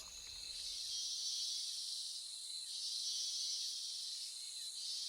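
Rainforest insects chirp in a dense, continuous high-pitched trill, steady and unbroken, with no other sounds.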